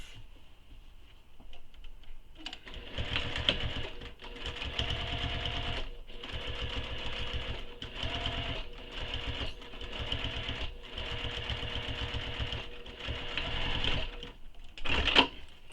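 A sewing machine basting a curved edge onto a bag pocket with a long stitch, a steady rapid mechanical whir and clatter running in long bursts with short pauses, close and loud, no talk.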